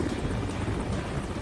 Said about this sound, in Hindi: गंगोत्री क्रूज की तरफ MI-17 हेलीकॉप्टर मंडरा रहा है।